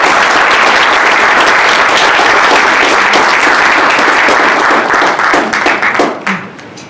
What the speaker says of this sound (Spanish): Recibamos con un gran aplauso a la doctora